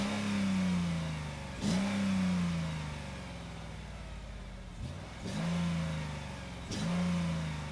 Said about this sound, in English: And then you start the car. And that beautiful V8 starts.